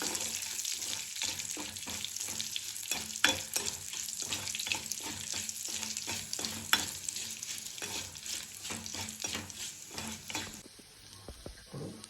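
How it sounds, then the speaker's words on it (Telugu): Curry leaves frying in a pan for a Telugu roti pachadi, a steady close sizzle with frequent stirring scrapes and faint water trickle, no talking. "కరివేపాకు వేగిందండి"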